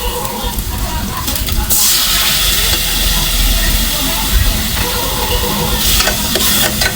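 Sautéed garlic mixture in a hot pan sizzling loudly as fish sauce is poured in, a sharp hissing burst that swells and stays intense and close, with brief talk underneath.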